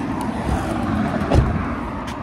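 A car driving at low speed just before pulling in to park at night, a steady close engine rumble and road noise with a brief louder swell partway through.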